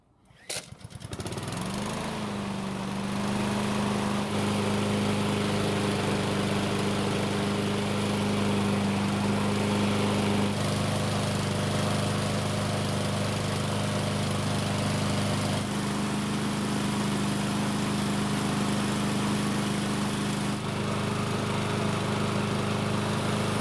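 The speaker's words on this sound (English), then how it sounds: "this mower seems to be running quite well, all things considered" A Husqvarna walk-behind lawn mower engine, one with oil leaks and a recoil starter in need of cleaning, starts up and then runs at a steady, loud, even idle for over twenty seconds with no talking.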